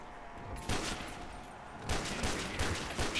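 A Desert Eagle pistol spam-fired in Call of Duty: World at War custom zombies: several quick bursts of heavy shots at uneven intervals, loud and close against a steady background of game noise.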